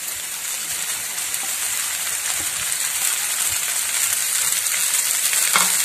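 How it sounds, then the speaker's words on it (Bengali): Rice tipped into a hot pan fries with a steady, close hiss and crackle that holds for several seconds while it is prepared for a South Indian aam bhat. No one speaks. "এখন আমি ভাতটা দিয়ে দিই।"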